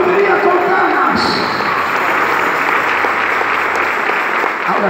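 A church congregation applauds steadily and loudly throughout, the dense clapping filling the space with no break, with some voices mixed in.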